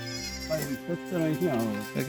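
Village goats at a farmer's shed in Dodamarg, where many have been dying, bleat repeatedly at close range while people talk over them.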